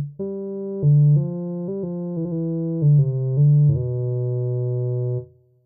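A sawtooth wave fed through the Audible Instruments Resonator string module in VCV Rack gives a held, buzzy synthetic tone that steps between a few pitches over several seconds before cutting off.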